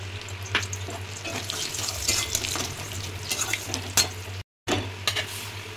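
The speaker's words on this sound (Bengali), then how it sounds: "তেলের মধ্যে গোটা গরম মশলা" Whole garam masala spices frying in hot oil for a bhetki fish kalia, a steady close sizzle with scattered crackles and pops, plus a constant low hum and one brief dropout near the end.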